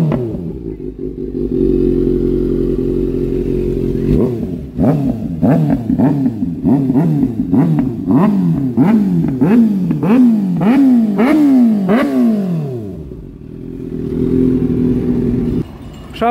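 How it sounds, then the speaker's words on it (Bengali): Loud aftermarket exhaust on a Kawasaki Z900 motorcycle, idling and then revving hard in a rapid series of sharp throttle blips that climb and fall, before settling back to a steady close idle. "এক্সজস্ট লাগিয়ে এত জোরে আওয়াজ হচ্ছে, বুম বুম বুম বুম সারাটা দিন।"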